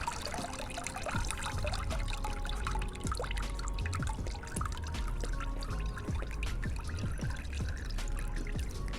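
Liquid plant fertilizer drips and trickles through a kitchen strainer into a container below, a steady close wet patter with scattered individual drops, continuous and alone without speech.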